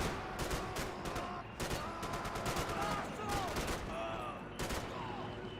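Gunfire and explosions in the video game Max Payne 3: a dense, ongoing rattle of shots with bursts of rapid fire and heavy booms, fairly faint under a steady din.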